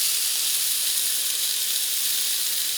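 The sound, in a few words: lamb chops sizzling on a hot skillet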